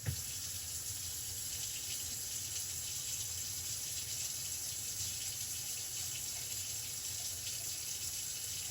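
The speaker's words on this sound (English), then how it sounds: "let me go ahead and open up my spigot right here." Water runs steadily from an opened outdoor spigot, a constant broadband rushing gush heard close and alone for the whole stretch, with no talking.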